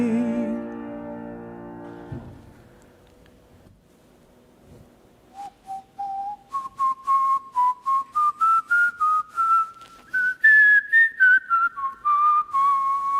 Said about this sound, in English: I heard you whistling a Christmas song.